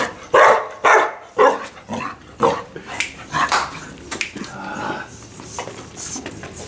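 A Presa Canario or Dogo Canario barks close by in a run of loud, deep woofs, the barks becoming quicker and mixed with softer whines as it goes on.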